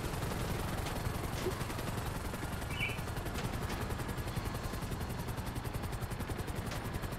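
Gunfire and a helicopter rotor in GTA V Online, with a steady rapid chopping and continuous bursts of shots running loud and dense throughout, no voices.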